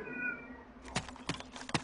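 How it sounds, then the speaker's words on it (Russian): A house cat yowls in the room behind a gaming voice chat, giving several drawn-out, strained meows at a moderate distance over a steady background hum. "Это у тебя кошка там орет? Да, кот у меня орет."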